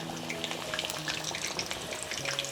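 Potatoes frying in hot oil in a pan over low heat, a steady close crackling sizzle with scattered pops running throughout, with no talk.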